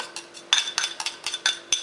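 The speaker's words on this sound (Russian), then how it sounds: "я сейчас кладу чеснок в кастрюльку" Garlic drops into a metal cooking pot, with light clinks and taps in quick succession, close by and fairly quiet.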